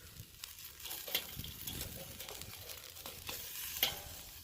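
Pork fajitas sizzle on a 22-inch Weber Original kettle grill, a soft crackling hiss with a few sharp clicks and scrapes as the meat is flipped, fairly quiet and without talk.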